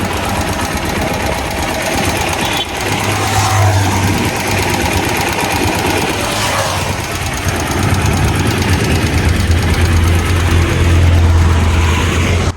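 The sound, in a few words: Bajaj Pulsar 150 motorcycle engine running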